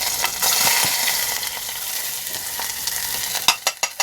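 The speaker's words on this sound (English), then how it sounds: "nice sizzle there and cook those real good" Carrots and onion sizzle steadily in a hot pot with a bright hissing wash, followed by a few clattering taps of a utensil near the end.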